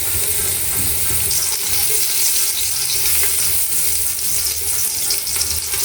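Shrimp rice kibbeh sizzles and fries steadily in a pan while being stirred, a continuous close hiss with scraping movement underneath and no talking.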